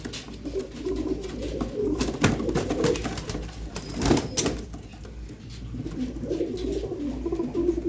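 Pigeons coo in low, throaty bursts that overlap almost without pause, close by and steady, with faint rustling in the background.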